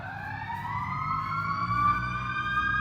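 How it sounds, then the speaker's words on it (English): A fire truck siren wails and climbs in pitch, fairly loud and sustained, with engine rumble underneath and no talking, in Corydon, Indiana. "I can hear fire sirens."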